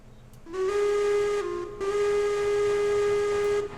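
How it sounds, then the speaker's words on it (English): A low-pitched steam locomotive whistle in the train game Railroads Online, blown as two strong sustained blasts with a brief break between, loud and close with no talking. "Low-pitched whistle."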